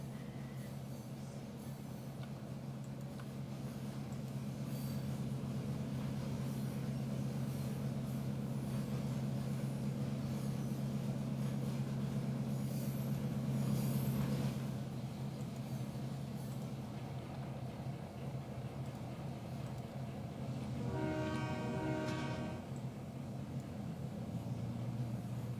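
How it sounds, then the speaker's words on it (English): Trains running in a railroad simulation game, a steady low rumbling drone of locomotives in motion, with a brief horn-like tonal burst near the end; no talking. "It's always nice to see two trains in motion at once"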